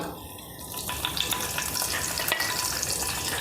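Two sprigs of curry leaves hit hot oil for a bitter gourd dish with kudampuli, giving a bright, continuous crackling sizzle up close, with occasional spoon scrapes and pops.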